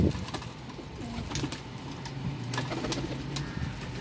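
Pigeons cooing, with soft, repeated low calls over a busy background of chirps and faint flutters, no voices.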